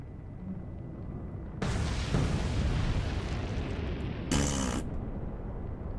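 A torpedo strikes a ship in the naval game Atlantic Fleet, setting off a sudden loud explosive boom that rolls into a sustained roar, with a sharp secondary burst a few seconds later.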